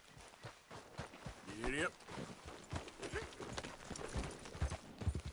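Horse hooves clip-clop at a walking pace in the Red Dead Redemption 2 video game, steady and fairly close, with a brief voice and a short whinny-like call over the hoofbeats.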